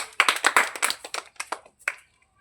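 A group of children clap hands in a classroom-style lesson on tastes, about ten sharp, uneven claps bunched in quick bursts, then tapering off into silence near the end.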